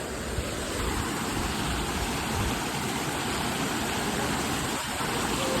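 A small waterfall on the Harihar Fort trek roars as a steady, full rush of falling water, loud and unbroken throughout, with no voices over it.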